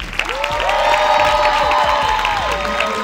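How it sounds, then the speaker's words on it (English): A live event crowd claps and cheers, with whoops and high shouts rising over dense applause, loud and sustained across the whole stretch. "Give a round of applause."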